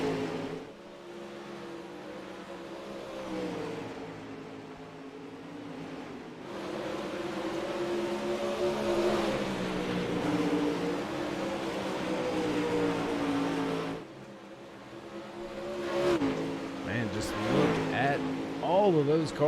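Pro Late Model dirt track race cars at the Knoxville Nationals, engines snarling in a pack, pitch rising and falling as cars sweep through the corners, a constant loud drone under race commentary.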